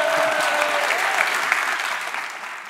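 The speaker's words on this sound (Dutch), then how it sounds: "Applaus voor Christian van het Hof." Studio audience at a late-night Dutch talk show on privacy claps steadily for a guest, a dense, even wash of applause that fades slightly toward the end with no talk over it.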